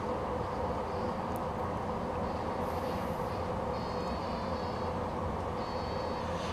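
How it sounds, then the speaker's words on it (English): A steady, low rumbling roar with a constant hiss from a kettle boiling water, continuous and unchanging at close range with no voices. "That's the sound of the kettle going."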